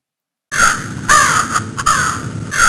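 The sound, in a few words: crow cawing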